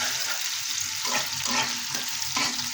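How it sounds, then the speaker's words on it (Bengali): Steady sizzling of dried chilies, onion and green chili frying in a pan for a potato bhorta tempering, a continuous crackle with occasional stirring scrapes, close and fairly quiet. "শুকনো মরিচ কিছু করে ভেজে পেঁয়াজ আর কাঁচামরিচ একটু নরম করে দেবো"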